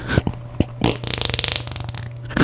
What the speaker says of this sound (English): I'm trying to get you to cue up that great fart sound you did earlier